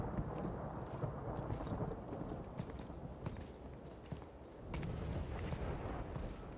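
Rumbling thunder with steady rain in the game God of War, a low continuous rolling roar with scattered sharp crackles and a louder swell near the end.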